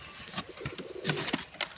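A sick grey pigeon coos softly in several short, close calls with brief wing flutters.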